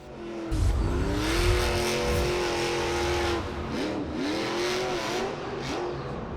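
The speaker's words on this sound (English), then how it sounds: "Oh, Chris Kohler putting down some horsepower, hitting that jammer" The Monster Mutt monster truck's engine revs hard during a freestyle run in a Monster Jam stadium, a loud sustained roar with rising and falling pitch and short throttle bursts, accompanied by a tire squeal.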